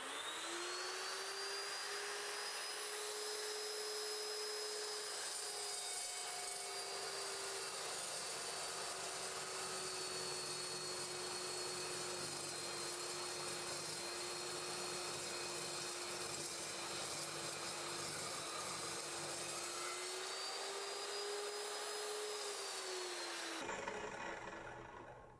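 An Evolution S355MCS miter chop saw cutting 1-inch square steel tube clamped on its end at 45 degrees, giving a steady loud whine with a gritty grinding rasp that holds for about twenty seconds before the blade spins down.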